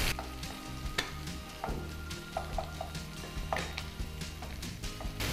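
Green chillies fry in a pan with a steady close sizzle, punctuated by occasional clinks and knocks of a stirring utensil.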